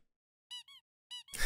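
The Squeaky Hammer in Deltarune gives two quick pairs of bright toy squeaks, clean and close against silence, followed by a burst of louder game noise.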